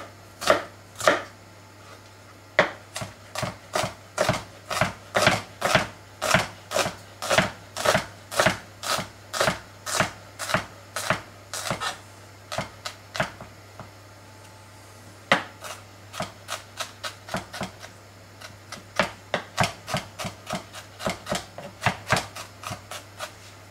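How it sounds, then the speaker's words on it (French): A knife slices a shallot finely on a board, with quick rhythmic chops running in steady bursts with brief pauses, close and crisp, and no talk. "Need to slice the shallot very finely."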